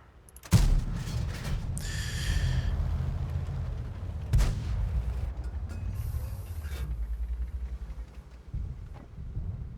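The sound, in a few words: tank cannon shots in the video game World of Tanks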